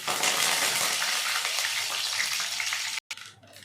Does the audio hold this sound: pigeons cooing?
no